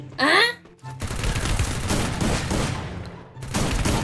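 Rapid bursts of gunfire in the mobile game Free Fire, dense overlapping shots from a close-range shootout in a solo ranked match, loud and continuous with a brief pause before more firing.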